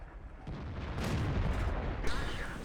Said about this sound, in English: You really don't want a 105 shooting pretty much anywhere into your ELC.